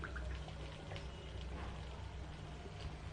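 Water is poured into a pot of chana during cooking, a faint continuous trickling pour heard under low kitchen background noise.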